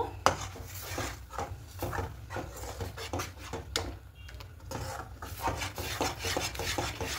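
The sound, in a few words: stirring milk for kheer in a pan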